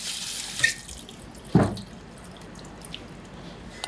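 Tap water briefly splashes twice while snap peas are rinsed in a kitchen sink, followed by quiet drips and stillness.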